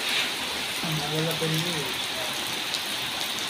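Steady rain falls on a village during the first shower of the season, a constant hiss filling the scene, with a voice briefly speaking over it.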